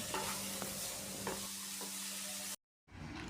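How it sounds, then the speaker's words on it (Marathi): Capsicum being stirred into a sizzling spice masala in a pan: a steady frying hiss runs throughout, with a spoon scraping in a few soft strokes. The sizzle cuts out briefly near the end, then returns, and no one speaks. "आता ही शिमला मिरची ना या पूर्ण मसाल्यामध्ये व्यवस्थित असं मिक्स करून घ्यायची आहे"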